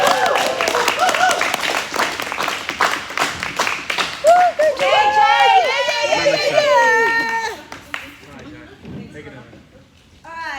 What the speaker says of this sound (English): Can we clap it up for Joanne, guys?